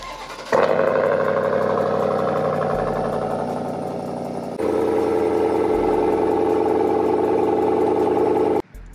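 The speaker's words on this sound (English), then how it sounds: "Here's some more footage of a cold start." Cold start of a 2021 GMC Sierra AT4 pickup with a Borla S-Type aftermarket exhaust and quad black chrome tips: a sharp loud bark as the engine fires, settling into a strong steady rumble, then a second surge before cutting off.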